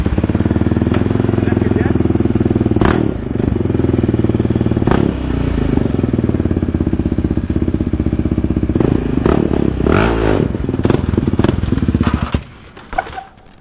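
A Yamaha Raptor 70 quad bike engine revs loud and rough with throttle bursts and clattering during a wheelie attempt, close by, then cuts off abruptly near the end.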